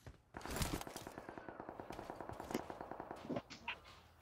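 Automatic gunfire in PUBG Mobile comes as a long, rapid, evenly spaced string of sharp shots. It is moderately loud and fairly close, tapers off toward the end, and a few scattered shots follow.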